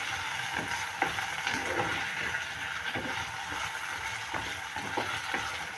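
Sliced onions and potatoes fry together in a pan, a low, even crackling sizzle with regular spatula scrapes and soft knocks as they are turned, close by and fairly quiet, with no voices.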